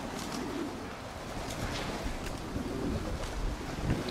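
Armenian fighting pigeons kept in a loft in Sergiev Posad flutter and shuffle in soft, close bursts over faint wind and background noise, with no one speaking.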